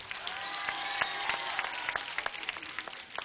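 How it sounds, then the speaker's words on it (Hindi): An audience at a yoga gathering claps for little girls brought forward, a brief burst of dense, fairly distant applause fading toward the end. "इन छोटी बेटियों के लिए भी एक बार तालियां बजाओ।"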